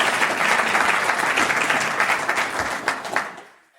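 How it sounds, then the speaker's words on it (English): Dense audience applause fills the room steadily, then fades away as the clapping dies down at the end. "You can clap."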